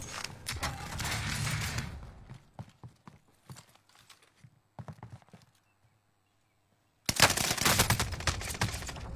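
Gunfire in a video game while shooting at an airborne turkey: dense bursts of rapid shots at the start and end, with scattered single cracks and clattering in between and a brief silent gap.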